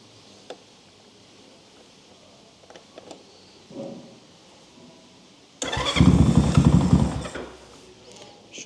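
Honda C50 motorcycle with a newly fitted engine, a few faint clicks and kick attempts before it catches and starts with a loud close clatter at about the halfway point, idling roughly to the end.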